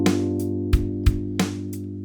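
Electric bass plays chords through a major 2-5-1 progression, with clean sustained tones, each change marked by a sharp plucked attack, loud and close with no talking.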